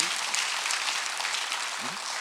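A congregation at a Korean church Sunday service applauds with a soft, continuous patter of clapping, fairly distant, as a voice speaks briefly over it.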